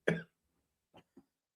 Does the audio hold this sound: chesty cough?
yes